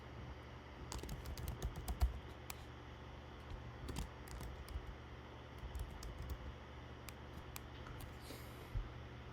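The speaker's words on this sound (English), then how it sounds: "I'll just type in a few different names so you can see." Names being typed on a computer keyboard, with irregular bursts of light key clicks, some quick runs and a few heavier taps, close and fairly quiet over a faint steady hum, no voices.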